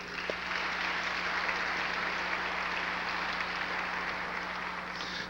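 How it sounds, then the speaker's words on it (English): A dinner audience applauds at a 25-year celebration, steady dense clapping at moderate distance filling the room throughout, with a faint low hum beneath and no speech over it. "I think they deserve a round of applause."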